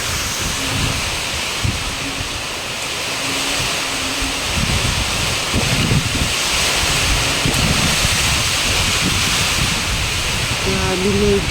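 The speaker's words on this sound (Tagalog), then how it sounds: "Sobrang lakas ng hangin." Strong wind gusts hard and without pause, roaring loudly and buffeting the microphone the whole time.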